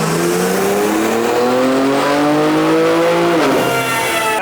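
A BMW engine with stock exhaust and a JB4 tune revs hard and steadily climbs in pitch for several seconds, loud and close, then briefly drops and rises again near the end.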